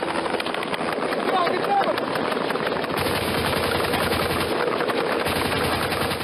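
Gunfire and shots ring through the streets in a documentary sound effect, a dense continuous crackle of rapid bursts filling the whole clip at steady loudness with no talk.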